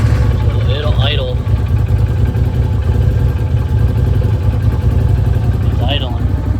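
A 2012 Arctic Cat Wildcat 1000 side-by-side engine idles with a steady, loud low rumble throughout, with brief faint chirps over it.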